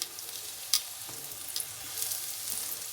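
Aloo paratha frying on a hot pan, a steady close sizzle with a few brief crackles and pops, no talk.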